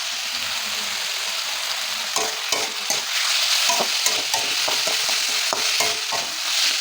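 Potatoes and vegetables sizzle and fry in a pan for chowmein, a steady close hiss broken by repeated scraping clatters of stirring that grow busier through the second half.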